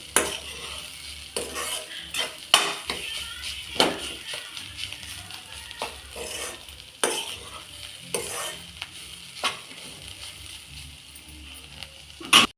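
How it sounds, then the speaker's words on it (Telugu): Carrot fry being stirred in a pan over the stove, a spatula scraping and tossing in repeated strokes over a steady low sizzle, close and moderately loud. "మళ్ళీ ఒకసారి కలుపుకొని"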